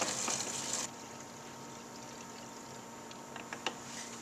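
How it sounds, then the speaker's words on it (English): Homebrewed strawberry drink is poured from one bottle into another, with a short, fairly faint rush of liquid at the start that settles into a low, steady hiss. "Okay, so now I'm gonna pour this into this one."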